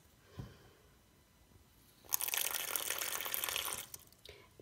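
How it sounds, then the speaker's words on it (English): Water runs from a tap into a jetted bathtub for about two seconds in a steady broadband rush, preceded by a brief knock and quiet room tone, then tapering off near the end. "So I'm going to add a little bit of water"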